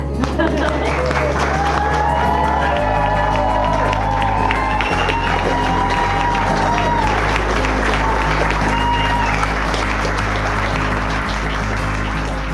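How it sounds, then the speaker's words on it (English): Wedding guests break into loud, sustained applause and cheering with whoops after a couple is pronounced husband and wife, a dense crowd roar filling the whole stretch. "I believe you're going to kiss because we are going to clap."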